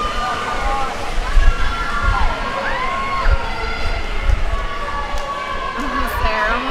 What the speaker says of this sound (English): you're hearing all the cheers from the swimmers from both teams for story turner